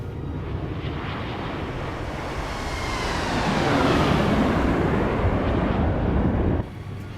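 In the X-Plane 12 flight simulator, a Boeing 777 freighter with its gear down roars with a loud, broadband engine and airflow rumble that swells midway and then drops abruptly near the end; no talking.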